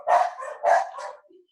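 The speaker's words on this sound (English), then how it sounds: "I'm sorry, my dogs. Ignore them." Pet dogs bark twice, loud and close, indoors during a live broadcast, followed by a faint short whine.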